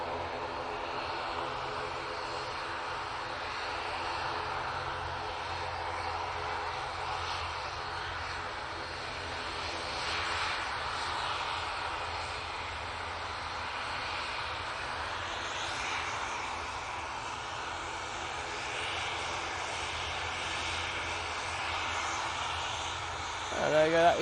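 An aircraft takes off at Manchester Airport, a distant, sustained engine roar that swells and fades over the runway, heard faintly beneath a live commentator talking throughout.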